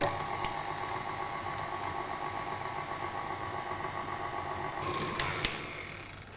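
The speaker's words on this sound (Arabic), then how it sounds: "فبستعمل هذا المضرب لهذا الغرض. وبشغل على سرعة بطيئة لتتكون عندي العجينة." Electric stand mixer fitted with a paddle beater turning on slow speed to combine ingredients into a dough for basbousa with a tart base, a loud, close, continuous motor hum with a faint rattle.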